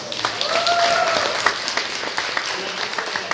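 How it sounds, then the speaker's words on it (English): A comedy show audience applauds steadily, a dense wash of clapping hands that holds at an even level throughout. "Let's give them a round of applause."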